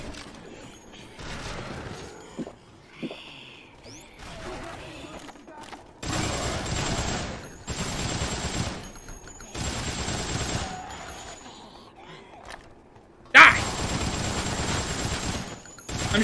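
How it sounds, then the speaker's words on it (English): Rapid gunfire from the Dead Rising video game rattles in several sustained bursts aimed at a dead body on the ground. The volleys are separated by short pauses, with some talk in between. "I'm shooting a dead body on the ground."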